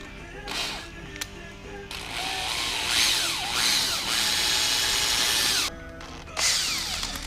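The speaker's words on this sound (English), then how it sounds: "Now let's get the gauge itself drilled and tapped." A small power drill bores a hole in a 1/14 scale model gauge, its whining motor rising and falling in pitch through long bursts with brief pauses between them.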